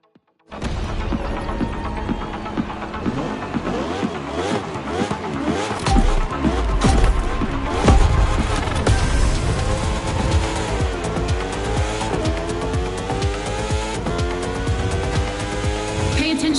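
Racing vehicle engine in The Crew, loud and continuous throughout, revving and shifting with rising and falling pitch as gears change, with occasional tire squeal.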